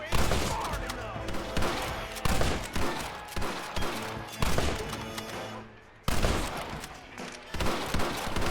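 Loud bursts of gunfire in Red Dead Redemption during a shootout with snipers in windows, repeated volleys with brief pauses, one near-silent gap, and voices shouting over the shots.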